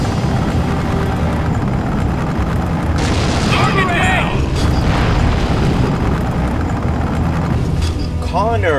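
A rocket blast in the war game Conflict: Desert Storm booms loudly amid constant battlefield rumble, followed by further crackling bursts, with a voice talking over the din.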